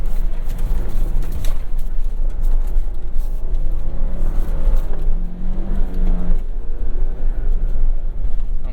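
A 2023 Ford Bronco Heritage with a seven-speed manual revs hard under throttle off-road, its engine droning steadily and close with rising pitch sweeps, mixed with wind and driving noise.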